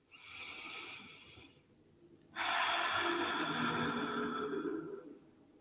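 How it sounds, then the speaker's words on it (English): Slow, deep breaths during a guided meditation: a soft inhale through the nose, then a longer, louder, airy exhale through the mouth, close and without talking. "we're breathing in through our nose and out through our mouth"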